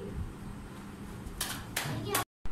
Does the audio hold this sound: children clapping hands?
yes